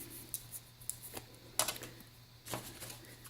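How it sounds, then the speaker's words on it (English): Scissors snipping around a glued paper envelope flap, a few sharp, quiet cuts spaced apart in a calm room. "and then we'll just cut around it"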